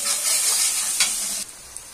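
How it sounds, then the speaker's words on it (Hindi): Onion and garlic frying in a hot pan with a steady bright sizzle while a spoon stirs them, with brief scraping swells and then a sudden drop in the sizzle near the end. "अब मैं डालूंगी प्याज और लहसुन। यहाँ मैं ब्राउन होने तक बढ़िया से 2-3 मिनट तक भूज लूंगी।"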